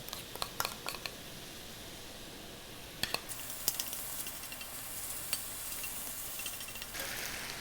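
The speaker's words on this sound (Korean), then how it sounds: "느타리버섯 양파 당근 이거 살짝 볶습니다" Oyster mushrooms, onion and carrot stir-fried with gochujang sauce for a pork belly dish: a low, quiet sizzle runs throughout, broken by scattered clicks and scrapes of a utensil against the pan.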